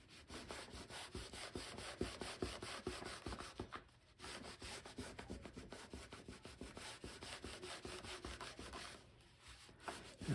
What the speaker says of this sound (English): This is our shop rag, okay? And this is just a piece of canvas from a pair of pants. I'm going to take that and just rub this edge.